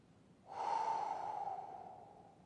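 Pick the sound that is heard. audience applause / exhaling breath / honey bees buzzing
exhaling breath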